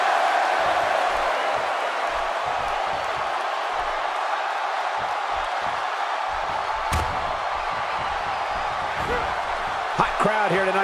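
A roaring wrestling arena crowd in Minneapolis cheers steadily throughout, a dense loud wash of noise with a few sharp thuds and a brief swell near the end.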